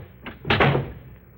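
A door swings and is slammed shut nearby, a quick creak followed by a hard, resonant bang that rattles briefly before settling into quiet room tone.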